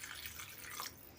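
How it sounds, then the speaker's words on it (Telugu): Water poured into a pan of dry fish egg curry gives a soft, faint splashing trickle lasting about a second, heard close and alone. "ఇప్పుడు మళ్ళీ ఇందులో మనం వాటర్ యాడ్ చేద్దామండి"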